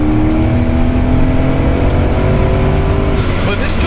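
A supercharged 370 WHP Porsche 928S on a track, its engine loud and close as it downshifts into second gear, the pitch sliding down and steadying with a strong droning roar throughout.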